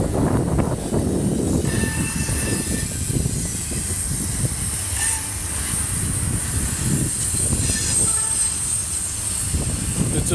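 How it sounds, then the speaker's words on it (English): A train passing close by during an outdoor walk on Memorial Day: a continuous loud rumble of rolling wagons with rhythmic wheel clatter, hiss and faint squealing tones. "We got the train on this side now."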